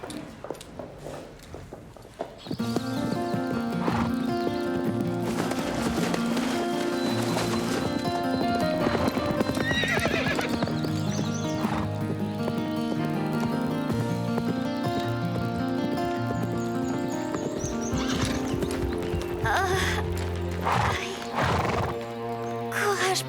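Hooves clip-clop steadily as a horse walks along under a rider, with a neigh breaking through, all under a continuous musical backdrop, in an episode of the series Grand Galop.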